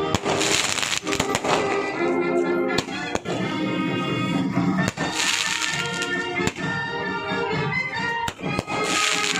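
Firecrackers burst in a steady barrage of loud, sharp cracks at a political victory celebration in Hingoli district, Maharashtra, with dense, overlapping bangs continuing throughout amid crowd noise.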